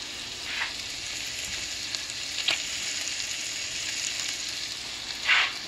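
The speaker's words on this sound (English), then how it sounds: "we're going to put it in a skillet, one side butter, and put the cheese on the other side" Buttered bread and burger patties fry in a skillet for a patty melt, making a continuous moderate sizzle with a few brief louder crackles and spits.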